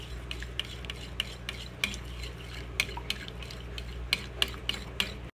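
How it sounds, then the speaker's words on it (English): Colored olive oil being stirred into melted soap base with shea butter, a spoon clinking and scraping against the container in irregular light taps over a low steady hum. "So now we're going to add our colored olive oil. And oh, isn't that pretty? We're just gonna stir that in."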